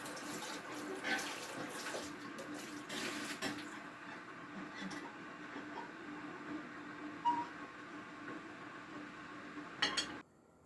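Water runs from a tap into a pot with a steady, soft gushing, fading out before a brief clatter near the end.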